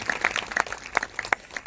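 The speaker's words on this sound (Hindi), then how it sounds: "जोरदार तालियों से प्रभु की महिमा करेंगे" A church congregation claps in praise, a thin, scattered patter of hands at moderate distance.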